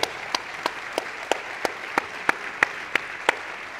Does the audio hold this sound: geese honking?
no